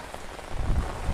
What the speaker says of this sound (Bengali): অনেক পরিমাণে বাতাস আর বৃষ্টি